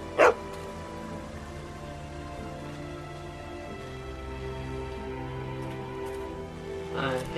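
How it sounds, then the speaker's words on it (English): A dog in The Walking Dead Season 2 video game gives a short bark at the start and another near the end, over a quiet, sustained music bed with no talking. "The dog."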